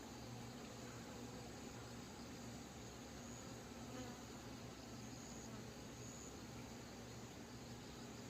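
Yellow-legged hornets buzzing outdoors near an apiary, a faint continuous insect drone with occasional louder passes as individuals fly in.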